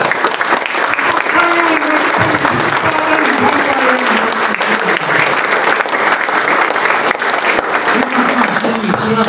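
A standing congregation applauds loudly and continuously while a voice speaks over the clapping, the dense crackle of hands holding steady from start to end.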